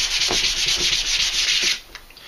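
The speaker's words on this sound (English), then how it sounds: "a little bit of sanding with 400 or 600 grit" Fine 400 or 600 grit sandpaper rubbing over store-bought wood being prepped for pyrography, a steady close hiss of back-and-forth strokes that eases off near the end.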